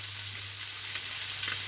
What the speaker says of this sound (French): une poêle bien chaude, juste un tout petit peu d'huile. Il y a déjà du gras autour des pois.